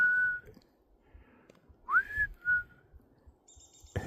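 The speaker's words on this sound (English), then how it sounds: "What's that bird? I always like that." Outdoors on a North Shore trip in May, an unidentified bird gives a few clear, whistled notes, one short sliding phrase and brief single tones, faint and spaced apart amid quiet surroundings.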